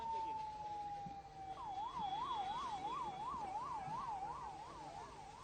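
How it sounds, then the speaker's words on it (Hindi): An ambulance siren wails in a rapid, regular up-and-down warble after a steady tone, carrying a child from the scene of an IED blast at a crowded chowk in Rajouri, heard at moderate distance with faint traffic underneath. "ये अब आपको दिखा दें कि एम्बुलेंस बच्चों को यहाँ से ले जाती हुई"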